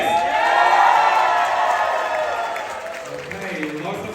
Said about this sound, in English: We're going to judge based on the loudness of the round of applause.